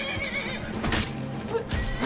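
A horse in the video game Skyrim whinnies loudly and close by, one long shrill neigh over a steady background of game ambience, with faint hoof sounds mixed in and no talk.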